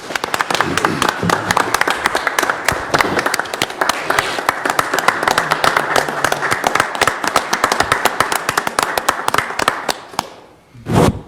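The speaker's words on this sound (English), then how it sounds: "Let's give him a big hand, please." Applause for honorees at a Danville city council meeting, a sustained, crackling round of clapping from the room that fades out near the end.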